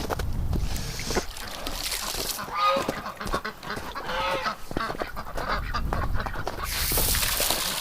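A duck quacking and honking by a lake in winter, with repeated nasal calls over steady outdoor noise and rustling, close and fairly loud, with no talking.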